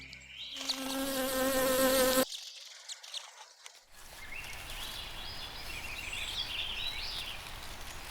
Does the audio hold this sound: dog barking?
no